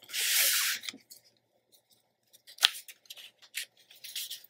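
Scissors trimming a strip off the top of a scrapbook paper page: one long slicing cut at the start, then a sharp snip and a few lighter scattered cutting and rustling sounds, close and quiet.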